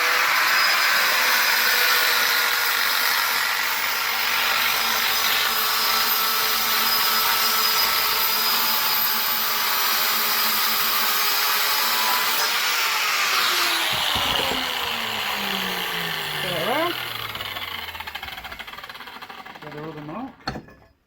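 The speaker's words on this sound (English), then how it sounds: "Then with my grinder, I'm coming straight down with my grinder." Angle grinder cutting straight down through metal in an open shed on a snowy day, a steady loud high whine held throughout, its pitch dropping and sputtering as the cut finishes and the disc spins down.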